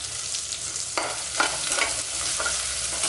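Onions fry in a pan for horse gram rasam, a continuous close sizzle with several sharp scraping stirs of a spoon, and nobody speaks.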